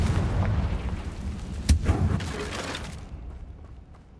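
A fire spell cast in the video game Hogwarts Legacy on hard difficulty: a deep booming blast with a sharp crack at its peak, then a rumbling tail that fades out.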